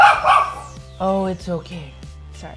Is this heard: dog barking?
yes